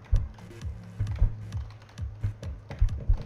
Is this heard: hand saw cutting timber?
no